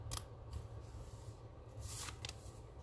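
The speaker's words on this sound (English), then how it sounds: "I'm just going to go ahead and snip it to the center" Scissors snip through cardstock paper for a Stampin' Up craft, a handful of short crisp cuts spaced irregularly over a low steady background hum, close and fairly quiet.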